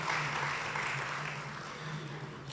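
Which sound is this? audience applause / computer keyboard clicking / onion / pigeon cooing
audience applause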